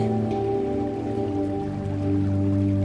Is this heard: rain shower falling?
yes